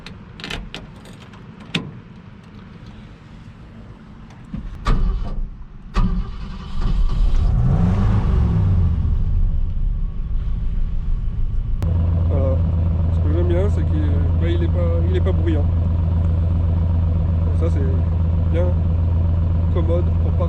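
A Ford F pickup truck engine cranks and fires up with a rising roar after some clicks and rattles, then settles into a steady, fairly loud idle, with someone talking over it.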